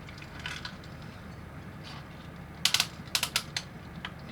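Plastic ball joints of a 1/28-scale VOTOMS Scopedog ATM-09-ST action figure click in a short series of sharp, close ratcheting clicks as a leg and knee are posed.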